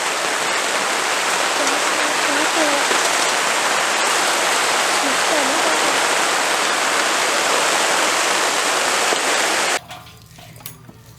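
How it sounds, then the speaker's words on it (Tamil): Heavy rain pours outside during a village cooking session, a dense, loud and continuous roar of falling water that stops abruptly near the end, leaving faint background sound. "வெளியே பார்த்தீங்கன்னா சரியான மழை பெஞ்சிட்ருக்கு"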